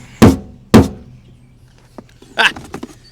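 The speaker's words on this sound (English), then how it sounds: "we're going to try to hammer this out as well" Two sharp, loud hammer blows strike metal while a dent is being knocked out, evenly spaced about half a second apart, followed by softer clanks and rattles.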